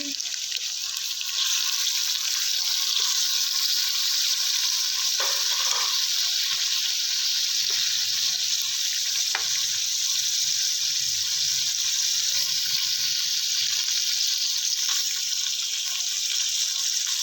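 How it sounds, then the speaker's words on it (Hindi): Mutton kadhai sizzles and fries steadily in a pan as tomatoes go in, a loud continuous hiss throughout with occasional stirring scrapes and clinks. "अब हम इसमें टमाटर शामिल करेंगे।"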